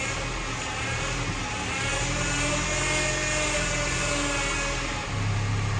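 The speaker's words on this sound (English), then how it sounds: "I don't know if you guys can hear this whine when I turn" A steady power steering pump whine on a 2003–2007 Honda Accord hums alongside the running engine when steering, holding fairly constant with a slight rise and fall.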